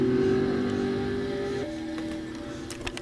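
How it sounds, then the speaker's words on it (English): A Texaco-liveried race car's engine revs and climbs through the gears during Daytona testing in a racing video game, a loud steady drone that shifts pitch midway, alone without talk. "Keith getting up to the gears on his Texaco Haviland car."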